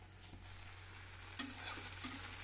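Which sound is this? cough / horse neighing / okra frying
okra frying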